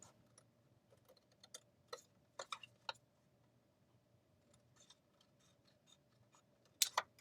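Scissors snipping through paper or card for a craft project, a string of quiet close cuts in uneven bursts with a sharper louder snip near the end, no talking.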